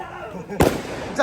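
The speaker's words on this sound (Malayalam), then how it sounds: "പടക്കങ്ങളൊക്കെ ഓരോന്ന് പൊട്ടിട്ടുണ്ട്" A sharp firecracker bang bursts out at a wedding after a moment of background voices, followed by a second pop, close and loud.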